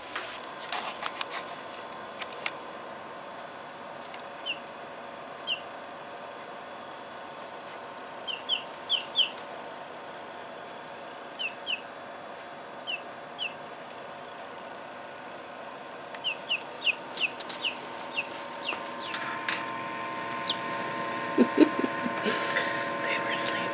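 Young chicks that have just been woken up give soft, scattered clucks and peeps against a quiet room, growing busier toward the end, with a person speaking softly at times.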